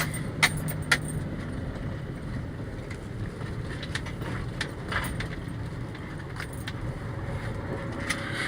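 A 2004 Ford F-150 regular cab long bed with a 4.2 V6 idling steadily with a low rumble, overlaid by wind buffeting the microphone and a few sharp jingling clicks like keys.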